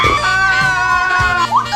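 A woman screams loudly in fright, a sustained high-pitched cry lasting nearly two seconds with a rising twist in pitch near the end.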